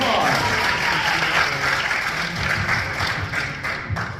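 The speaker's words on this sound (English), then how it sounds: "Applaud, yeah, applaud, come on." Meeting attendees applaud for several seconds in a sustained, fairly loud wash of clapping, with voices audible underneath.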